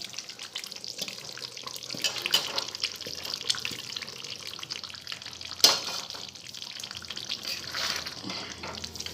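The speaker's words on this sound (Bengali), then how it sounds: "নাড়াচাড়া করে মিশিয়ে নিয়ে জল দিয়ে দেবো ওতে" Mutton kosha is stirred with fried potatoes in a pan, giving a quiet, uneven sizzle with scraping strokes and one sharp knock of the spoon partway through; nobody speaks.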